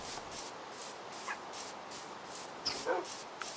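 Dogs in the Minecraft video game give a few short, fairly quiet barks and yips over a steady rhythmic background hiss, with no talking.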